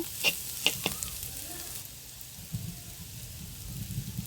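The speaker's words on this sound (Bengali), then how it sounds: "এখন আমি গাজর কুচিগুলো দিয়ে দিলাম গাজরগুলো একটু ভালো মতো ভেজে নিব" Chopped carrots frying in a pan make a quiet crackling sizzle, with a few sharp clinks of a utensil at the start and soft stirring scrapes later.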